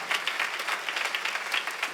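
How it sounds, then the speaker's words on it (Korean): Church congregation applauding during a Sunday worship service, a steady burst of many hands clapping together with moderately loud, even rhythm. "박수치라 이게"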